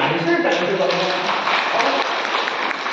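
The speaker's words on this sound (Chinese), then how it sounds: "大伙都鼓掌" Applause from an audience at a live crosstalk comedy show in Changchun, a dense steady clapping that stays loud and even for a few seconds.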